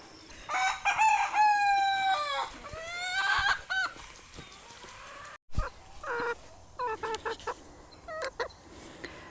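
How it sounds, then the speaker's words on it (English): A rooster crows loudly several times in close succession, long harmonic calls, followed by shorter clucks and bird calls nearby in a tropical vegetable garden. "So you just met Rotty the rooster."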